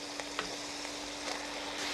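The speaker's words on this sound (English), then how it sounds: "we're frying it before we go on to the drying stage" Extra lean ground beef frying in a pan, with a steady, fairly quiet crackling sizzle and scattered small pops and no voices.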